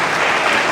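Crowd applause at a senator's public information assembly in Nueva Rosita, Coahuila, a dense, loud, steady wash of clapping from many hands filling the whole brief moment.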